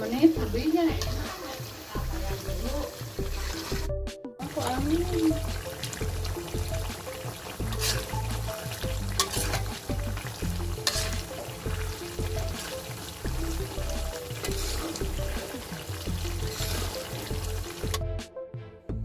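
Steady sizzling of shallots frying in hot oil to make crispy fried shallots, with intermittent scraping and stirring sounds and a low rhythmic thumping underneath, continuous throughout.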